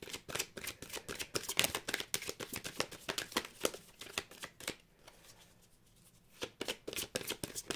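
Tarot cards are shuffled by hand in quick, crisp riffles. Close, rhythmic flicking pauses briefly near the middle, then resumes.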